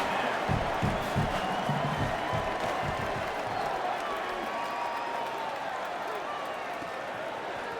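A football stadium crowd roars and cheers during a punt return in a Washington State versus Louisville game, a dense, steady wall of noise with a commentator talking over it.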